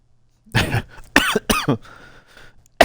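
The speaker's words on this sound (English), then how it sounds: "Excuse me, I coughed." A person coughs in a quiet room: one harsh cough, then a close pair of sharp coughs, a faint throat clearing after, and a final abrupt cough at the end, each loud and near.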